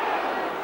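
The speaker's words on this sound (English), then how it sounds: "Ooh, go the crowd." A rugby league crowd at a Featherstone versus St Helens match lets out a loud, sustained collective "ooh" that fills the stadium for the whole short moment.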